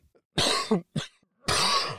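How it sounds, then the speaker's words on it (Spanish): Several harsh allergy coughs in quick succession, close and loud, with short silent gaps between the bursts. "un pequeño ataque de tos que estoy saliendo de la alergia"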